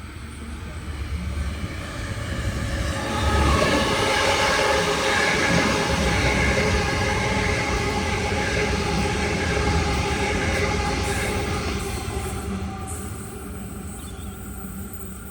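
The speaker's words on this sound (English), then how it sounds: "allowed for these fast trains to pass through like that" A fast express train roars past close by on a quadrupled line in Sydney, a loud sustained rumble and rattle of wheels that swells and holds, then begins to ease away.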